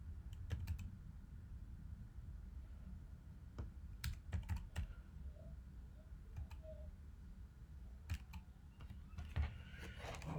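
Typing on a computer keyboard, faint irregular clicks and key taps close by in a quiet room, in scattered bursts with no talk.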